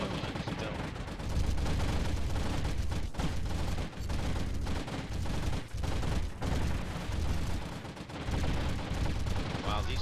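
Ship guns fire in the space combat video game AFF, Patch 4, in a dense, continuous stream of loud rapid bursts with brief dips and hard low thumps layered through the barrage.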